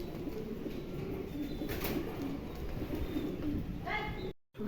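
Pigeons coo steadily at close range, a soft continuous burbling over a low background hum, with a faint voice in the mix.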